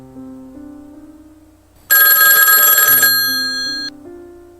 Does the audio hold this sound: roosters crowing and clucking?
no